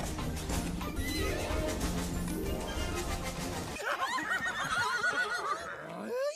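Horses neighing and whinnying in an animated children's film about Ferdinand the bull, set against a loud music score, with a burst of chaotic animal cries and commotion near the end.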